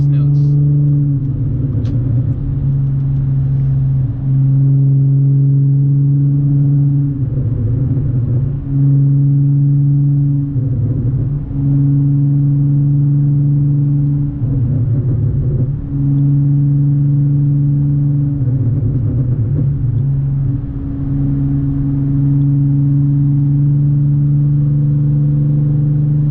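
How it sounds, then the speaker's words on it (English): An Audi S4 drones steadily from inside the cabin on a night highway cruise, its exhaust holding a deep, continuous hum with periodic swells as the throttle rises and eases over nearly half a minute. "let you guys enjoy some of these exhaust notes."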